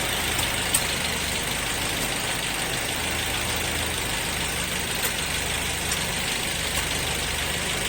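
A car engine idles steadily while a 12V power inverter is tested off the battery, a constant close rumble with a faint high whine running through and no talk.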